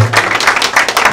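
A crowd at a stage event applauding, with dense, loud, continuous clapping from many hands filling the whole short stretch.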